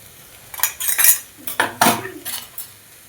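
Spoon scraping and clinking against a metal pan while chili powder and garam masala are mixed into okra, several irregular clattering strokes close by, with no talking.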